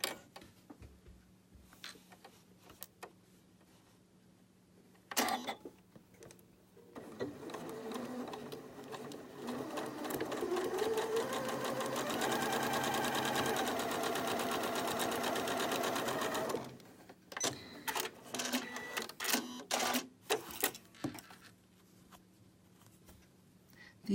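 A sewing machine stitching quilt block pieces together: a few scattered handling clicks, then about ten seconds of steady, close motor whir and needle chatter that stops abruptly, followed by more faint handling sounds.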